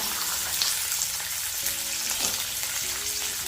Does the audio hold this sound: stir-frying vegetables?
yes